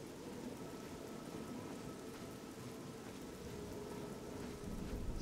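Steady rain falls in the fantasy game Oblivion, a dense, even wash of drops hissing on surfaces, with possible thunder rumbling low beneath, continuous and unbroken, with no talking.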